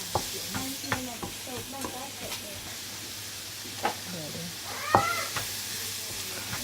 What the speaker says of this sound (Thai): แล้วก็ผัดให้เข้ากันนะคะ